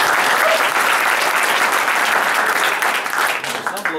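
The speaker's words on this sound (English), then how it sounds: "Big round of applause for Krista, please." Applause from an audience at a tech talk on Crate and Docker, a dense steady patter of many hands clapping close by for about four seconds, tapering slightly at the end.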